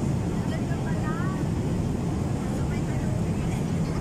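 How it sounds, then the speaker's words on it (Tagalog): A large passenger airplane's steady broad engine roar fills the whole span, constant and loud, with people talking over it. "Napakalaking eroplano na punong-puno."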